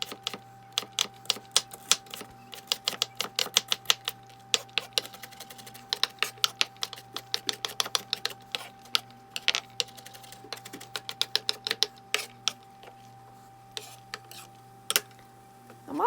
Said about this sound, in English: I'm going to use a whole onion dice